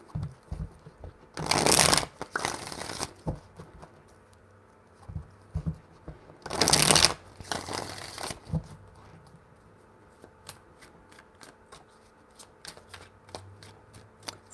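A deck of cards is riffled in two separate bursts of shuffling, each made of quick crisp flutters, followed by scattered soft taps and clicks.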